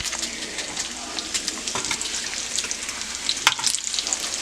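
Bacon sizzles and crackles steadily in a pan, a dense close frying hiss with occasional sharper pops and light clinks, no voices over it.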